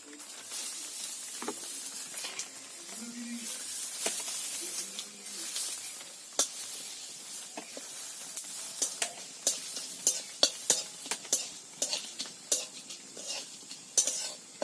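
Three bay leaves, a dried red chilli, half a spoon each of nigella seeds and cumin tempering in hot mustard oil, giving a steady close sizzling hiss with light clinks of stirring.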